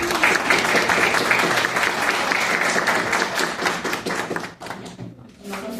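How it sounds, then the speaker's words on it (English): A classroom group claps together, a dense, steady patter of hand claps that stays loud for most of the stretch and then thins out and fades near the end. "So an applause for all of you."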